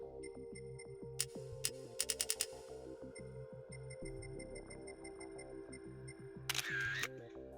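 Camera shutter clicks sound in Gran Turismo 7's photo mode, first single clicks and then a quick burst of several, over looping game menu music.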